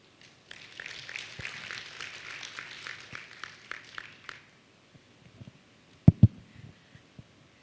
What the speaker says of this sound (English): Another round of applause for what he has shared with us.